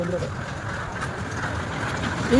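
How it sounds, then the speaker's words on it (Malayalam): A steady rumble of a moving train fills the clip, with faint rhythmic rattling; a voice speaks over it near the end. "ഇന്ന് ട്രെയിനിൽ കയറി ഇന്ന് ട്രെയിനിൽ പോണേ"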